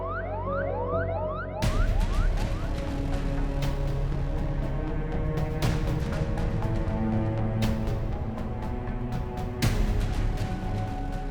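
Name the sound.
ambulance siren arriving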